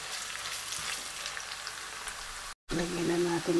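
Ginger pieces fry in a pan for a mixed seafood dish, giving a steady, close crackling sizzle. After a brief silent cut the sizzle returns with a voice speaking over it.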